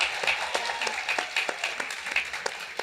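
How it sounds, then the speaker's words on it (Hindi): A small audience claps steadily at an informal gathering, the individual claps close and crisp with a few sharper accents and no talk over them. "देख रहा है विनोद, तालियां बज रही हैं।"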